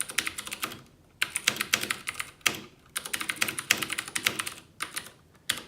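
Rapid keystrokes clatter on a mechanical gaming keyboard in bursts of quick, crisp clicks separated by short pauses, close and clear with no talking.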